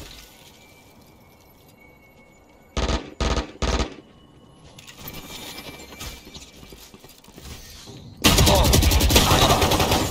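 Gunfire in the tactical shooter Valorant: three quick rapid bursts of automatic shots close together, a stretch of quieter in-game background, then a sustained loud stream of firing that runs to the end.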